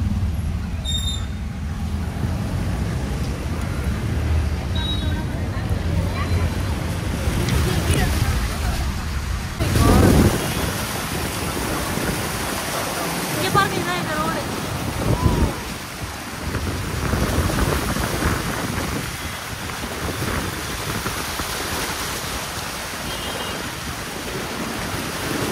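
A car drives through deep floodwater on a road after a cyclone, with a steady wash of water sloshing and rushing around it through the whole stretch and a few heavier surges, while people talk over it.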